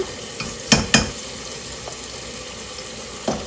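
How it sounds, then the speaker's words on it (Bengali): Ginger-garlic paste and coriander powder fry in a pan with a soft steady sizzle, broken by a couple of sharp spoon knocks early on and another near the end, close and without talk. "দিয়ে দিচ্ছি আদা রসুনের পেস্ট, দিয়ে দিচ্ছি ধনে গুঁড়ো"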